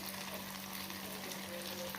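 Honey chicken frying in a pan with oyster sauce, a steady close sizzle with crackling pops and spatters throughout, no voices.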